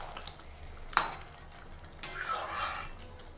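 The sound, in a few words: chicken being sautéed and stirred in a pan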